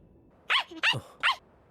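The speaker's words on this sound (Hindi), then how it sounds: "ये तो साकुरागी परिवार का कुत्ता है" A family's dog in an anime episode gives three short, high whimpering yips in quick succession, close and clear against a quiet background.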